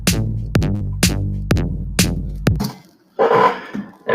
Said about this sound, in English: This is my MIDI. This is what it sounds like.